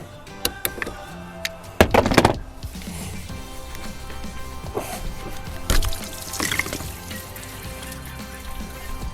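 Stop-leak powder with organic fibre being poured into the top radiator hose of a 4x4's cooling system: a few sharp clinks and a brief loud rustling pour near the start, then quieter handling and scattered knocks.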